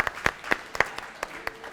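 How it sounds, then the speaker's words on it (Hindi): Scattered claps from a studio audience at a grocery game show, a handful of separate sharp hits spaced irregularly rather than a full ovation, fairly quiet. "एक बार तालियां बजाएं"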